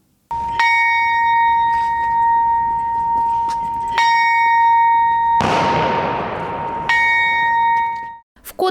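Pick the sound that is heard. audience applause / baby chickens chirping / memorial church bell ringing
memorial church bell ringing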